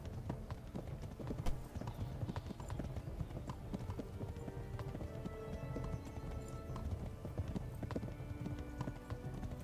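Horse hooves clip-clop steadily in the medieval role-playing game Kingdom Come: Deliverance, a continuous rhythmic trotting with faint game ambience and an occasional snort or whinny.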